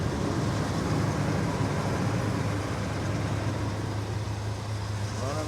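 A 1977 Chevrolet Suburban's 400 V8 idles steadily in a shop, a constant low rumble with a smooth, even drone and no voices over it.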